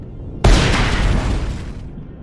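An active mine in a minefield blows up a small vessel in the space game Empyrion: one sudden loud boom that rolls off into a rumbling decay over about a second and a half, with no talking.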